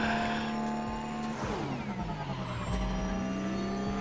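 Electric car in The Crew Motorfest on O'ahu, a futuristic synthetic whine that glides up and down in pitch as the car accelerates and shifts, steady and close with no talking.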